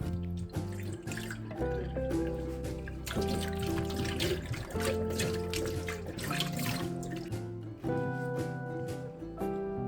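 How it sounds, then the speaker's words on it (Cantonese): Cold tap water runs over blanched asparagus in a sink, a continuous splashing stream with irregular clinks and knocks, close and steady throughout, with no talking. "用凍水過一過冷河。"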